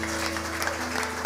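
A church congregation applauds together in a steady, dense wash of clapping that holds at even loudness for the whole moment, with no single voice standing out.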